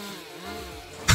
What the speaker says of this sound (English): I wasn't expecting it to actually use the chainsaw.